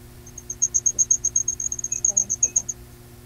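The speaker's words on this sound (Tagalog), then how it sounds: "Yung mga kuliglig, sir, pampatulog talaga yung mga kuliglig." A cricket chirps in a rapid, even train of high pulses, fairly close and steady, over a low electrical hum with faint voice fragments underneath.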